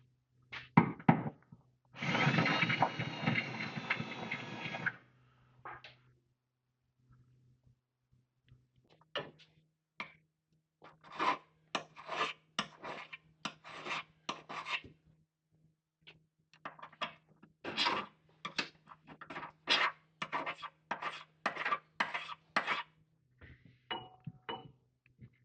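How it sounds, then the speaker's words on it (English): Hand chamfering of drilled holes in metal parts for an off-road tow truck's front suspension: a brief broadband burst, then a long run of short, sharp scraping strokes in a quick, uneven rhythm, close and fairly loud. "Just chamfer these holes a little bit."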